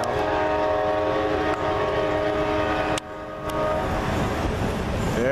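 Amtrak Palmetto train 89 blasts a loud hybrid K5LA horn up close, sustained chord blares with brief breaks, over the rumble of passing rail cars.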